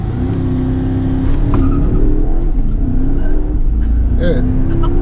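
A fast passenger car on a test track accelerates hard at a race start, with a loud sustained engine roar and rising revs close by, while people talk over it.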